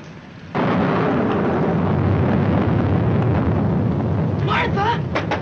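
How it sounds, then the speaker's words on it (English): A film thunderstorm breaks in with a sudden loud roll of thunder over steady rain, a dense sustained rumble that continues to the end, with a brief voice near the close. "I'm afraid of the thunder and lightning."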